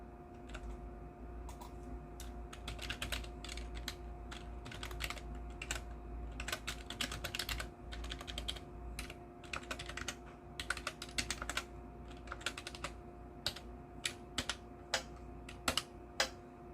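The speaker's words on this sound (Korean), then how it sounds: "제가 일일이 타이핑을 하도록 하겠습니다" Rapid, continuous clatter of computer keyboard typing, close and steady with bursts and brief pauses, no voices.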